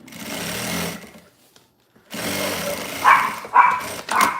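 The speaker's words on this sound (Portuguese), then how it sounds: "Tá escutando muito latido aí?" A sewing machine hums steadily indoors, then after a short pause several dogs bark in quick, loud yaps close by.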